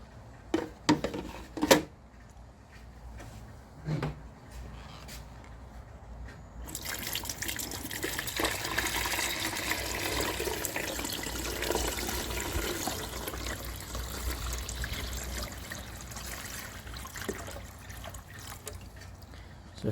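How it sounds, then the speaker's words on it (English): A few plastic clicks and knocks, then water pours continuously into a Frigidaire ice maker reservoir for over ten seconds, a steady close splashing that gradually thins toward the end. "So we'll throw water in there"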